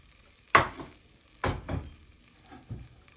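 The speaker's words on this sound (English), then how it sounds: "Now I'm going to mix here." Ginger potato curry being stirred in a pot, with several short scraping, sizzling bursts from the spoon, about four strokes spaced across a few seconds, close and fairly quiet between strokes.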